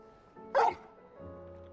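A dog barks once in Final Fantasy XVI, a single loud close woof in a quiet game scene, followed by a soft low rumble.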